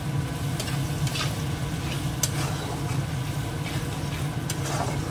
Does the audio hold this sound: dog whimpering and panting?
no